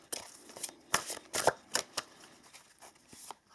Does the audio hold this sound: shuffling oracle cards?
yes